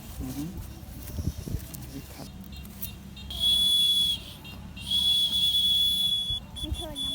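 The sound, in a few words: whistle made from rice stalk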